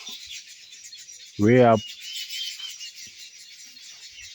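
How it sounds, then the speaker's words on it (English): Wild birds chirp faintly and continuously in trees beside a maize plantation, a thin high twittering in the background, briefly interrupted by someone speaking. "I'm trying so hard to get some images of these singing birds."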